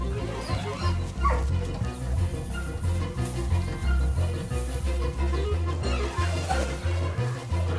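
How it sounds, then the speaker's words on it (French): Several border collie puppies yip and whimper close by on a farm, their small cries overlapping against a low, busy background with a voice speaking. "À la ferme, les border collies se préparent pour leur mission de chiens de berger."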